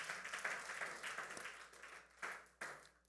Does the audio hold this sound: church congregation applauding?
yes